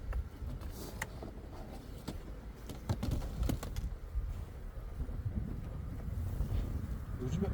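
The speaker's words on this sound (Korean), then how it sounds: "지금도 여기 바람이 불어서" Wind blowing outdoors during a beehive inspection, a steady, loud rush of buffeting gusts against the microphone with low rumble throughout.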